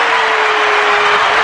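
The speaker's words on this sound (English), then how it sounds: "Let's get a round of applause for that shit." An audience gives a round of applause, a brief dense and loud wash of clapping that holds steady throughout.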